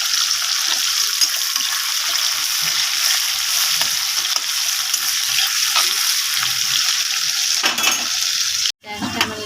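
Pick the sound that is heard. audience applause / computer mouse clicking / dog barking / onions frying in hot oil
onions frying in hot oil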